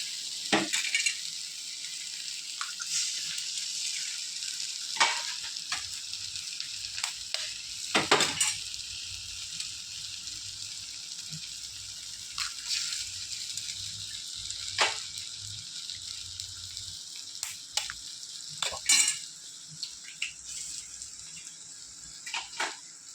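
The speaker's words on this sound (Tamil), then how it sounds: "இந்த முட்டையை உடச்சி ஊற்றிடுங்க" Egg fries with onions in a pan, a continuous loud sizzle broken by occasional clinks and scrapes of a utensil stirring, with no talk.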